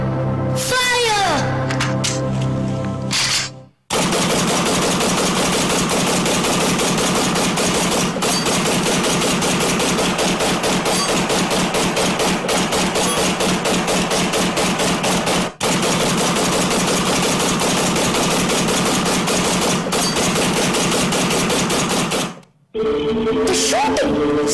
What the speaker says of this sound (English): The shooting started without any warning and continued till the troops ran out of ammunition.